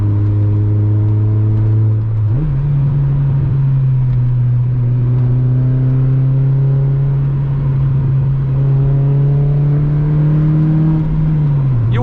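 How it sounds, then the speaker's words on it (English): Naturally aspirated engine of a Mazda MX-5 MK2 on a night drive in the UK, a loud steady drone heard from inside the car, its pitch rising through long pulls with a brief shift near the start and a drop at the end. "Just completely raw sound of the MX-5."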